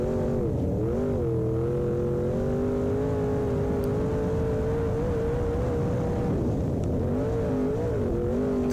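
A race car runs hot laps at Monett Motor Speedway on a very tacky track, its engine droning loud and continuous with pitch rising and dipping through the corners, up close with no talking.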